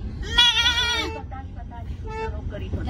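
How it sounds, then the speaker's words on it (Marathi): A goat bleats loudly in a village for about a second, a wavering nasal cry, followed by a few fainter bleats amid people talking and background street noise. "बकरी"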